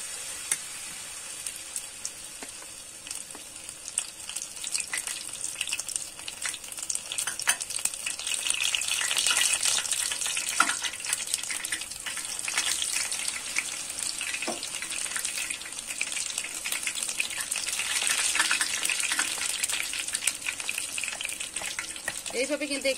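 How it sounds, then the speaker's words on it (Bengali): Battered banana flower chops frying in hot oil, a bright, continuous crackling sizzle that builds and stays steady at close range, with brief speech at moments. "এইভাবেই কিন্তু আমি তেলের মধ্যে ছেড়ে দেবো।"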